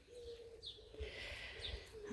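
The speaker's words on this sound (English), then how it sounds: "There's another birdhouse, and they've got lots of nesting birds." Nesting birds call in a garden with a birdhouse, a few soft cooing and chirping notes over quiet outdoor background, moderately distant.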